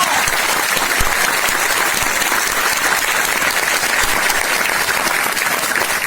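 Loud, dense applause from a large audience at a network marketing training workshop in a hall, steady and sustained throughout without pause.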